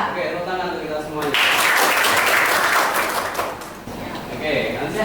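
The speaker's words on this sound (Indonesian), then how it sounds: "Oke, tepuk tangan untuk kita semuanya." Audience applause at an Indonesian vocational school gathering, a dense burst of clapping swelling through the middle and fading near the end, with voices around it.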